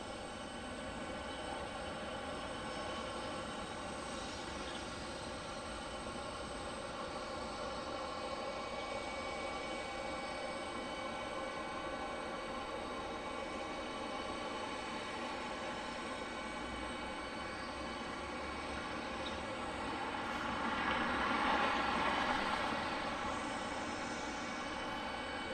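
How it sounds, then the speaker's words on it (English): A CRJ 900 regional jet arriving at Detroit airport, a faint, distant, steady engine hum with a whining tonal drone that swells slightly near the end, heard from far off behind trees. "So we see the CRJ 900 arrive from Harrisburg, Pennsylvania."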